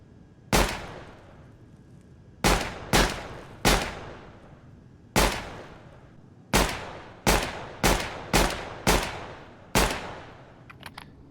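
Nine sharp gunshots in Counter-Strike 2, fired singly and in quick pairs, each a loud crack with a distinct early reflection and a long reverberant tail.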